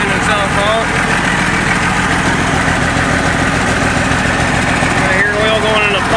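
A 4850 tractor engine running steadily at idle while a newly installed hydraulic pump takes in oil, a loud continuous low rumble and vibration close by, with a voice speaking briefly over it.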